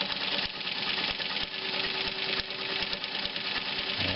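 A New Home Model 270 sewing machine runs continuously with a steady mechanical whir and faint regular ticking, fairly close and even in level, with no talk.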